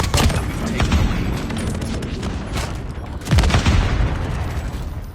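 Gunfire and explosions from a friendly strafe run in the mobile shooter Call of Duty Mobile: dense, rapid bursts of shots and heavy booms, loud and continuous across the whole stretch, with a big blast partway through.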